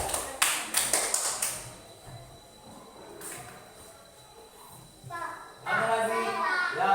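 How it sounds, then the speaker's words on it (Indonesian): Schoolchildren in an elementary school classroom give a brief burst of scattered clapping near the start, followed by someone speaking and children's voices rising in the room. "Beri tepuk tangan kepada si teman kita Aurel."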